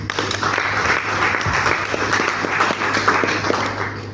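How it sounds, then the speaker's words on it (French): An audience at a wedding and events fair in Mbuji-Mayi breaks into loud, sustained applause, many hands clapping close together throughout. "Est-ce qu'on peut l'applaudir"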